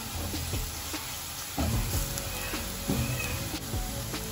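Onion and masala sizzling in a hot pan for a Kerala-style mushroom curry, a steady close frying hiss with soft stirring knocks throughout.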